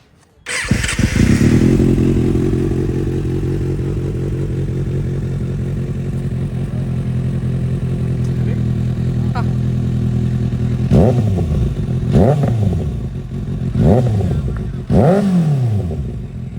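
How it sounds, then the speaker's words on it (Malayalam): A 2024 Kawasaki ZX-6R sport motorcycle with an aftermarket exhaust starts up and settles into a loud, steady idle, then is revved sharply four times near the end, each rev rising and dropping back. "നമുക്കേതായാലും ഇതിൻ്റെ എക്സോസ്റ്റ് നോട്ടൊന്ന് കേട്ടു നോക്കാം"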